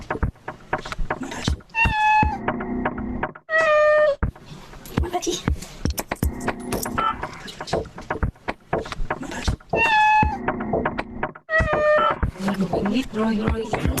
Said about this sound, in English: I have to talk to him to get him to meow.